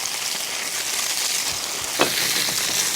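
Tofu sizzling in a hot pan, a steady close hiss of frying with a brief clink partway through and no talk.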